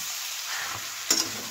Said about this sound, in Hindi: आलू डाल देंगे, आलू को अच्छे से मिक्स कर लेंगे